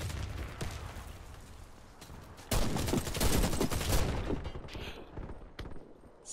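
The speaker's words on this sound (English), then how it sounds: "Three shots there. 3 hits with a shotgun." Shotgun blasts in the video game Warface crack out in a quick cluster, a loud burst of gunfire that booms and then trails off into quieter game ambience.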